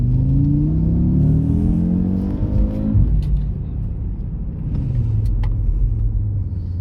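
Inside a 400 hp Audi RS3, the engine drones and climbs steadily in pitch, then drops sharply as the automatic gearbox shifts up before building again, heard as a muted, well-insulated rumble.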